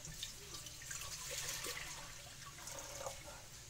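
Water pours steadily into a big pot for homemade elderberry syrup, a faint, continuous trickle and splash lasting a few seconds, no voices.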